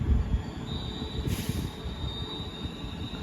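Passenger train passing through Tamworth station, its wheels squealing with a high steady whine over a continuous loud rumble of rolling stock, close by and without talk.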